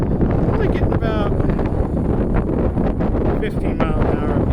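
Strong wind sweeps across a desert mountain peak near Las Vegas during a March windstorm, a constant loud blustering roar against the microphone, with faint speech breaking through at times.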